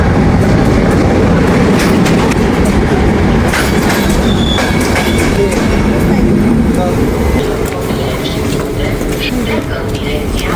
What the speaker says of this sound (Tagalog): Nandito na yung train.